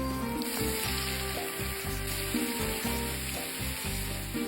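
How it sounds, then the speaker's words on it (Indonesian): Battered squid sizzles and crackles loudly in hot oil, a dense continuous frying hiss with occasional stirring clatter, close up and without voices. "langsung aja aku mau goreng ke dalam minyak panas."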